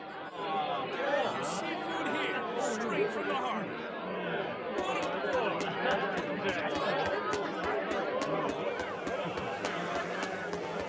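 Crowd chatter in the Tales of Berseria video game, a steady murmur of many voices babbling together with light clattering steps, continuous and moderately close.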